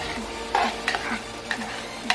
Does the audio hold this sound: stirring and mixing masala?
yes